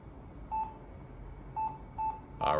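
A broken ThinkPad laptop being switched back on gives four short electronic beeps at an uneven pace, the last one rougher and noisier, heard close against a low background hum.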